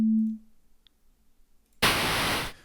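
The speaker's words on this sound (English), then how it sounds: "this is the first bit noise sound I've played here all day" Synthesized bit noise effect, a white-noise-like signal built from only two values: a brief low steady tone, a near-silent pause, then a loud harsh hissing burst lasting under a second before cutting off.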